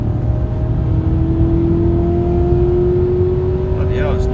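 A Maserati Quattroporte, freshly given an engine carbon clean, accelerates on a test drive in sports mode, its loud, steady engine note heard from inside the cabin and climbing gradually in pitch.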